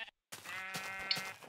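A sheep in the Minecraft video game bleats, one clear, close, wavering cry that follows a brief silence, with a second bleat swelling near the end.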